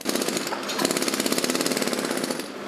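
Compressor-driven jackhammers pound rapidly and loudly in a steady rhythmic rattle, breaking away the worn old concrete top of a bridge support up close.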